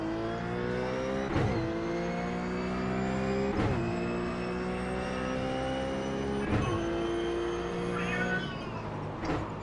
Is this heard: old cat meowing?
yes